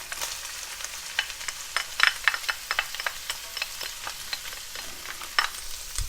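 Onion and garlic sautéing with Toscana sausage in a pan, a steady close sizzle broken by frequent sharp scrapes and stirring clicks throughout, no voices.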